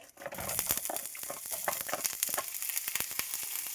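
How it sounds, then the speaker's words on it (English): Chopped onion sizzles steadily in a hot pan for a canned corned beef dish, a dense frying crackle broken by sharp clicks and scrapes of a utensil, close and alone with no talking. "we're gonna saute our onion"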